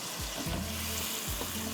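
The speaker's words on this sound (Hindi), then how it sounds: "1 कप दही डाल दीजिए और उसको अच्छी तरह भूनिए, और जो उबला हुआ गोश्त है वो उसमें डाल दें।" Yogurt and boiled meat fry in a pot, a close, steady sizzle with occasional stirring scrapes and no talk.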